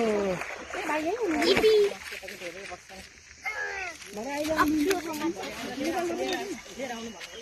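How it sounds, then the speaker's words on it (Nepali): A small boy splashes and plays in water, light splatters breaking through frequent child chatter and adult talk close by. "अक्छु पानी खेल्नु थाल्यो, हेर्नुहोस् है भाइले पानी खेल्नु थाल्यो"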